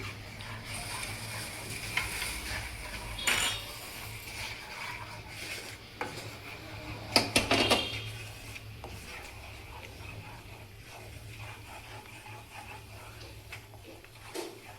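Milk powder and milk stirred in a pan over a low flame for kesar milk cake: soft, intermittent scraping strokes, quiet and close, over a steady low hum, with a couple of brief louder rubs.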